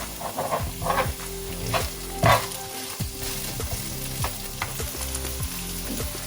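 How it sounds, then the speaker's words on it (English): Curry leaves crackle and sizzle loudly in hot oil, with repeated spatula scrapes against the pan. A dog barks faintly in the background. "Now we add some curry leaves."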